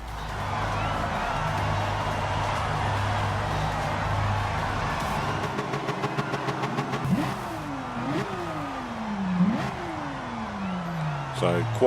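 A Porsche 911 in a racing video game holds high revs on the grid at a race start, then launches. The engine climbs through several rising sweeps with sharp gear changes, loud and steady throughout.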